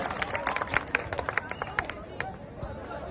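Scattered audience clapping at a Harsh Chhikara event, a crisp patter of many hands, close and irregular, with crowd murmur underneath.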